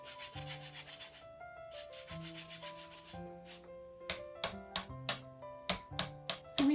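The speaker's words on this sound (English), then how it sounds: "you're going to take lemon peel. And you're just going to scrape it right into here." Lemon peel scraped over a pot of fish stew, heard as a faint run of short, evenly spaced scraping strokes in the second half, with soft tones in the background.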